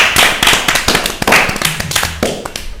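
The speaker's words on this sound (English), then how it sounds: "should we give him a round of applause?" An audience at a fashion panel discussion claps in a short, close, fairly sparse burst of sharp individual hand claps that stays loud for about three seconds.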